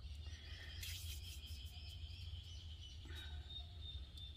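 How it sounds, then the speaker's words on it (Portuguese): Birds chirp outdoors in the background, with a few brief brighter calls standing out over a steady low hum, fairly faint and distant. "E aqui a gente tem muitos pássaros,"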